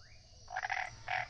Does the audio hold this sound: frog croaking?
yes